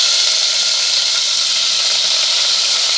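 Sliced medium onions sizzle loudly in hot oil with a bay leaf, frying for a tomato biryani; a steady, dense, close frying hiss that holds level for the whole stretch, with no talk.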